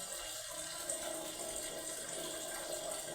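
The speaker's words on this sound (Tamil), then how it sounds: "தண்ணி இப்போ தான் தண்ணி வருது" Water gushes steadily from a pipe just cleared of a blockage, a continuous near rushing flow with no talking.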